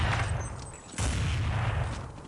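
Gunfire in Counter-Strike 1.6, a steady dense crackle of shots with a sharper burst midway, fairly loud and continuous through the short stretch.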